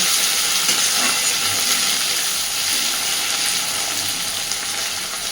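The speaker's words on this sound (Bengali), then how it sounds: "দেখুন পেঁয়াজ আর টমেটোটাকে আমি একটু হালকা করে ভেজে নিয়েছি" Onion and tomato fry lightly in a pan with a steady, loud, continuous sizzle and hiss that holds evenly throughout, with no voices.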